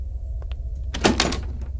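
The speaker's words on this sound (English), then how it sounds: "That door is locked. We cannot go that way." A locked door in an indie ghost-investigation horror game rattles and thunks briefly as someone tries it, a short cluster of knocks and clatter against a low rumbling backdrop.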